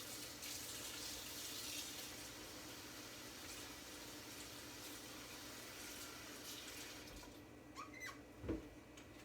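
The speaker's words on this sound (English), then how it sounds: "Put water in your pan. Just want them to really just cover the beans really good, not too much." Tap water pours steadily into a pan over green beans, a soft continuous splashing stream that fades near the end with a small clunk.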